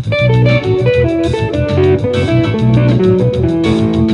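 Electric guitar riffing over a full band backing, a bluesy minor lick repeating in quick phrases, loud and upfront.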